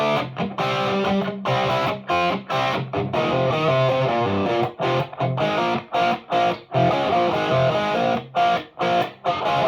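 Heavily overdriven electric guitar in drop C tuning through an EVH 5150 Iconic tube amp plays chugging, stop-start riffs with sharp breaks between chords, loud and close with no talking.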